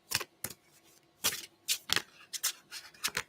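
Tarot cards shuffled by hand at close range: a handful of crisp, uneven riffles and slaps, bunched irregularly and separated by short pauses, with no voices over them.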